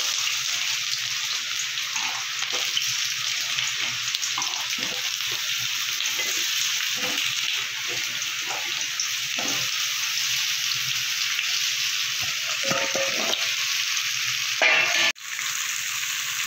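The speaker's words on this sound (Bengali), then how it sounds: "তেলটা আমার গরম হয়ে গেছে। এবার আমি কেটে রাখা কুমড়োগুলো দিয়ে দেবো।" Cut pumpkin pieces fry in hot oil, giving a loud, dense and continuous sizzle close by. Faint stirring sounds come through it, and a brief clank is heard near the end.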